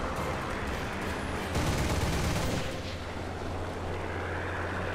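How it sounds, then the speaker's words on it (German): Tank cannon and gunfire in War Thunder roar as a dense, continuous barrage of booming blasts, loud and close, with a sustained low rumble and a heavier burst in the middle. "Ich schieße die ganze Zeit drauf"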